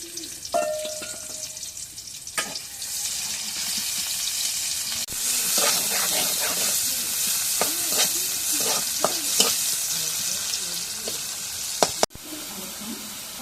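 Steady loud sizzling of meat pieces frying in hot oil in a wok, with scraping and clinking of a utensil stirring the pan throughout.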